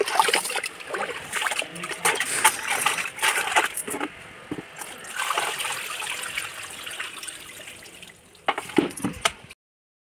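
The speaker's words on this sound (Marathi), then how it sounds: "ज्या प्रत्येक वेळेस आपण पाणी टाकतो त्यावेळेस त्याचं काळं पाणी निघतं" Water poured over finger millet being washed clean of soil, splashing and trickling in uneven bursts with clinks and spatters, close by and fairly loud, ending in a short flurry of splashes.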